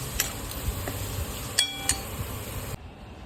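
Finely chopped onion frying in a pan while being stirred, with a soft steady sizzle, a few sharp clinks of a utensil against the pan, and a sudden cutoff near the end.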